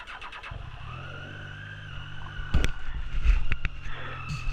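A 2017 Triumph Street Triple 660 motorcycle engine with a stubby exhaust idles with a thin whine, then revs in a few sharp bursts near the microphone.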